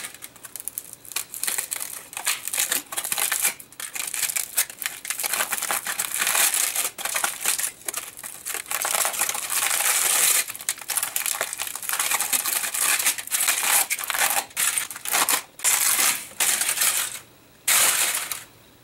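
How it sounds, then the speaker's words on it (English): Aluminium foil being peeled off taped-down polymer clay artwork and crumpled, a long stretch of loud crinkling, tearing and scrunching bursts with brief pauses near the end. "But I'm just going to remove this foil."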